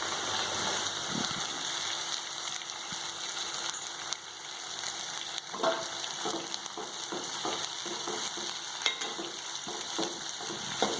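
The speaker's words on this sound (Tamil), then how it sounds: "வெங்காயம் லேசாக சிவந்த நிறம் வர்ற வரைக்கும் நல்லா வதக்கணும்." Onions sautéing in a pan for a spinach and egg stir-fry, a steady close sizzle throughout with occasional stirring scrapes and clinks over it.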